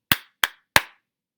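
Three sharp hand claps in a short uneven rhythm, two quick and one slightly spaced, crisp and close in a quiet room with no voices.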